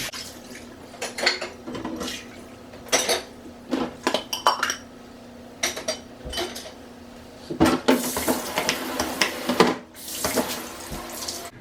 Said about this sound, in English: lot of dishes that I just have to load into the dishwasher